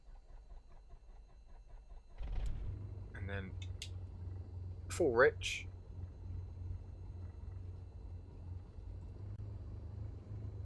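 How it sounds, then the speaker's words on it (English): A Cessna 172 piston engine in Microsoft Flight Simulator turns over and settles into a steady, low, chugging idle, with someone talking over it. "Let's start the engine."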